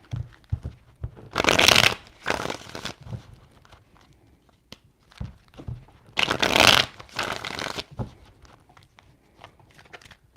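Tarot cards being shuffled in two bursts of riffling and ruffling, each about a second long and separated by quieter handling taps.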